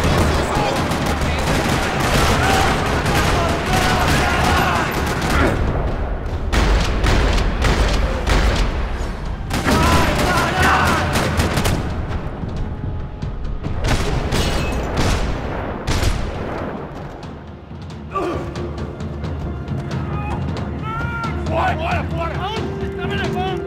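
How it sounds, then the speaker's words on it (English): Gunfire rattles across a parking lot in Max Payne 3, bursts of rapid shots and heavy booms coming in loud clusters separated by brief lulls, with some game voices and music underneath. "Another parking lot rattling with gunfire."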